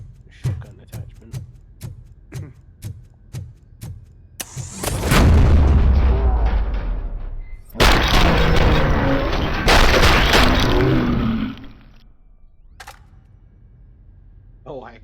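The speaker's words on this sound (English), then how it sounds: "Shotgun attachment." Heavy shotgun blasts ring out in a Robocop video game, with several loud booming shots and long crashing tails, following a run of sharp rhythmic clicks. A voice speaks over parts of it.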